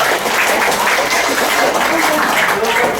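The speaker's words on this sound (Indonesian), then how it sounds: "Tepuk tangan dulu deh buat kita." Conference audience applauding, a dense steady wash of clapping from many hands filling the room, continuous and fairly loud for the whole stretch.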